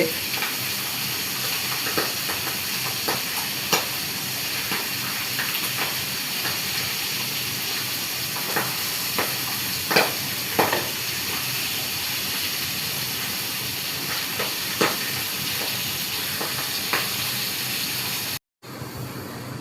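Fish frying in hot oil in a cloud kitchen, a steady loud hiss with scattered sharp pops and spatters throughout, briefly cut off near the end before resuming.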